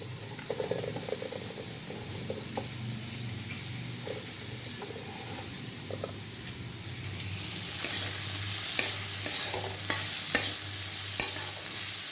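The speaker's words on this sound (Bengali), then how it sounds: "পেঁয়াজ কুচি দিয়ে একটু ভাজবো" Chopped onion goes into a hot pan with already-fried potatoes for a tarka dal and is stirred. A steady close sizzle runs under repeated scraping stir strokes, growing louder and busier toward the end, with no voices.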